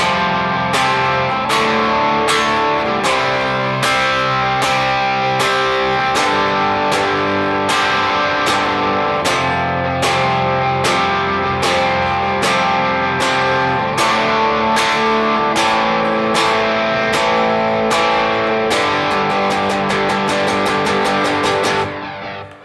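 An electric guitar plays with light reverb and a touch of delay, rhythmic strummed chords and hits repeating steadily and loudly, accelerating into quick strums near the end, alone without talk.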